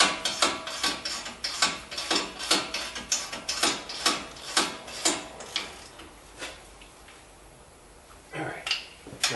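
A ratchet tightens a brake caliper bolt on a 2008 Toyota Highlander, giving a quick run of close, crisp rhythmic clicks that pause briefly, then a few more clicks near the end.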